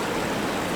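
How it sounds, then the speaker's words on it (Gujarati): Floodwater from heavy morning rain pours over a low village causeway near Upleta, Gujarat, making a steady, dense rushing roar with no break. "સવારથી વરસાદને કારણે પાણી અમારે ફૂલ ઓવર થઈ જાય છે"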